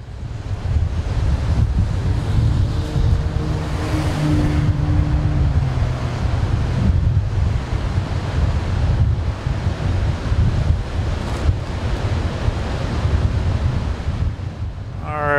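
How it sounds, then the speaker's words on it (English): Salty wind buffets the microphone beside ocean waves on the Oregon coast, a loud continuous rumble and roar of surf and gusts with faint tonal traces of a passing vehicle, no voices. "That salty breeze coming on through there."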